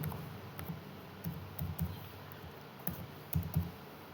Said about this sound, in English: Now we need to type the program with the header line first